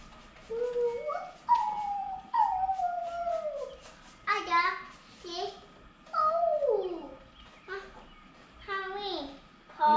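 A Halloween toy dog pops out and gives a series of rising and falling whining howls, close and fairly loud, with pauses between bursts and no other voices.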